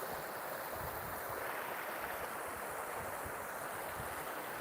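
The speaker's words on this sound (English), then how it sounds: "And there's that nice little waterfall. Comes running off that hill." A small waterfall runs off a hillside, producing a steady, dense rushing hiss of falling water that stays even and close throughout with no voices.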